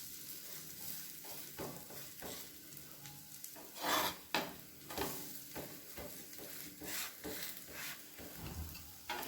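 A wheat rava and moong dal adai fries on a pan with a steady, soft sizzle, broken by a few sharper scrapes and clinks from a spatula and pan near the middle.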